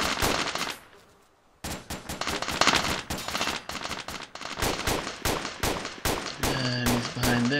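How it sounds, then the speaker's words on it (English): Rapid gunfire from a military firefight in the video game Arma II, with dense bursts of automatic shots and single cracks that stop briefly and resume, loud and close, with an engine-like tone near the end. "I'm shooting at the front platoon."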